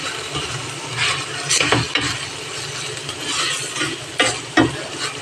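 Red spaghetti sauce being stirred in a frying pan, a gentle sizzle under irregular scraping and clinking of a spoon against the pan, close and fairly quiet, with a few sharper knocks.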